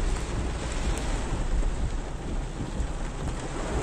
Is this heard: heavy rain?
yes